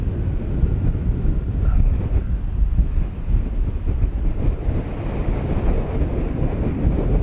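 Steady, loud wind buffets the microphone on a slope where a Volantex PhoenixS 742-7 RC glider is flying, a continuous low rumbling roar with no pauses.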